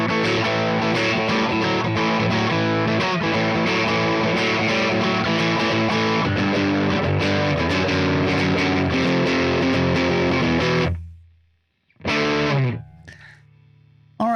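Distorted electric guitar through a TC Electronic Ampworx Combo Deluxe 65 preamp with the reverb off, playing dense, loud chords for about eleven seconds, then a sudden stop, a brief final strum and a faint tail.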